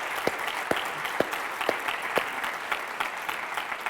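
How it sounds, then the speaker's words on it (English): A small audience at a city faith summit applauding city staff, steady sparse clapping with individual claps distinct, moderately near, no talk. "I just want to give them a round of applause."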